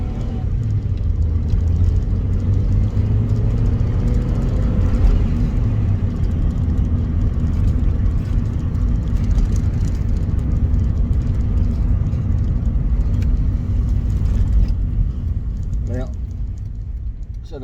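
Honda Civic driving with the driver's window down and a jumpy, shuddering clutch; steady loud wind buffeting and low road rumble fill the cabin throughout, continuous and close.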